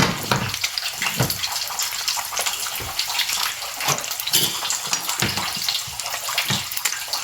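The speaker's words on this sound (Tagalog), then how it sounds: "Nag-iipon ako ng tubig sa lababo." Steady running water pours into a kitchen sink, a continuous splashing rush with occasional clinks and knocks nearby.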